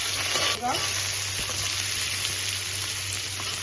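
Cumin and garlic sautéing in hot oil, a close, steady sizzling hiss with a low hum underneath and a brief scrape of the spoon near the start, no talking.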